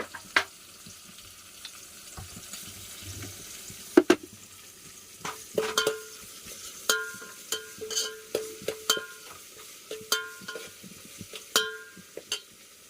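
Ginger garlic paste frying in a pan for a village-style country chicken curry, a steady close sizzle broken by sharp scraping stirs that come faster toward the end, with no talking.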